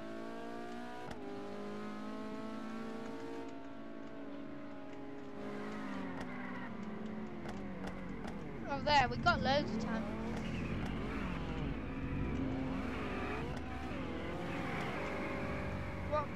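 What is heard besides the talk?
car engine revving and accelerating in a Roblox racing game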